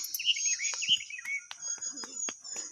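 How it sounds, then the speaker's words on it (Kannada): Several bright bird chirps and short trills up close in a small home kitchen garden, with a high steady insect-like whine running underneath and a few soft clicks. "ಹಕ್ಕಿಗಳು ಹೆಂಗೆ ಸೌಂಡ್ ಮಾಡತ್ತ"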